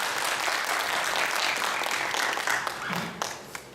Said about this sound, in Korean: 우리 목사님 박수로 환영하겠습니다